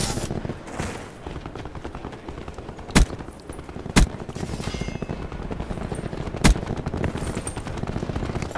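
Sustained rapid automatic gunfire from an unidentified gun in Black Ops 4 multiplayer, with dense rattling bursts punctuated by a few sharp louder shots throughout.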